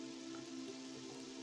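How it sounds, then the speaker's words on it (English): Rain in the Brothers Apart video game, a steady soft hiss of falling drops pattering evenly on surfaces, faint and continuous throughout. "I'm going to turn on the rain."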